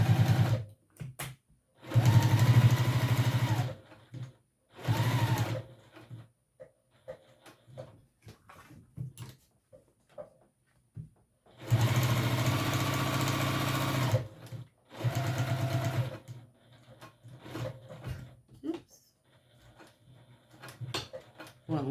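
A sewing machine stitches a seam in short bursts, its loud rapid mechanical chatter starting and stopping several times with pauses of quiet handling noise and clicks in between.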